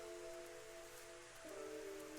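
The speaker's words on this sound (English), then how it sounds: "As soon as the light had faded, it began to rain." Steady rain falls in the Little Busters visual novel, a soft, even wash of broadband patter that holds for about two seconds, with low sustained tones beneath and no voices.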